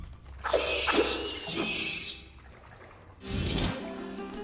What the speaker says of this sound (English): We have to drink the toilet water.